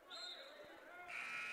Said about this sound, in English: That may have been an inadvertent buzzer.